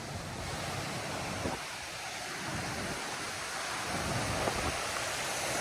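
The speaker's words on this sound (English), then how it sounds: "Waterfall Central, baby." Roaring waterfall along the Foothills Trail, a steady, dense rush of falling water that fills the scene from start to finish with no voices.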